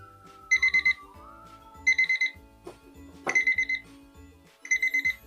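A Fireboltt Sphere smartwatch sounds its find-device alert, repeating short bursts of high electronic beeping about once per second, clear and close against a quiet background.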